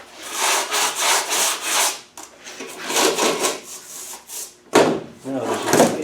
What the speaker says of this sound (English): and sand it down